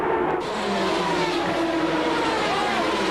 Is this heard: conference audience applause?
no